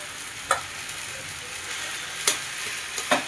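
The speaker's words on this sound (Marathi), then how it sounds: "इथे आता मी त्याच्यामध्ये भात ॲड करून घेणार आहे" Cooked rice is stirred in a hot pan for veg fried rice, a soft continuous sizzle broken by a few sharp scrapes of the spatula against the pan, close by, with no speech.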